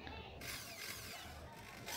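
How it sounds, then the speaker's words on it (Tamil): Electric drill boring a hole in a heatsink plate for an STK audio board, a steady close mechanical whir and grind that runs throughout. "அந்த ட்ரில் பிட்டை வச்சு தான் நான் ட்ரில்லிங் பண்ணுறேன்"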